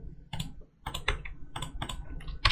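Computer keyboard keys pressed for a copy shortcut (Ctrl+C) while automating data entry into Excel: a short run of close, crisp plastic key clicks, about half a dozen in uneven rhythm, with no talking.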